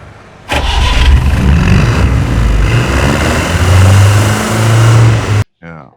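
An Ambassador car engine cranks and catches, then settles into a loud, steady idle with low rumbling throughout before cutting off abruptly near the end.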